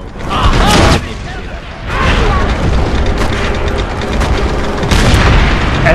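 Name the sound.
tank cannon fire in Call of Duty World at War video game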